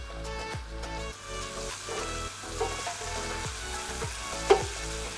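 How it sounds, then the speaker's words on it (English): Onion sautés in hot oil with a little salt, a steady close sizzle and crackle broken by periodic scrapes and clinks of a utensil stirring the pan, with no talking. "Add in the oil. Add in the onion and saute with little salt."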